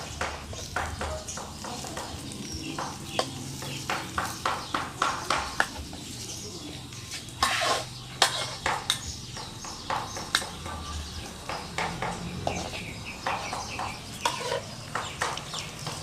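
Fried rice stir-fried in a pan, a spatula scraping and tapping in a steady run of close, rhythmic strokes, with brief talking in the background.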